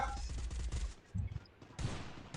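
Gunfire in the Free Fire battle game, a burst of several rapid shots at the start, then a couple of shorter volleys after a brief lull, fairly loud and close with little else around it.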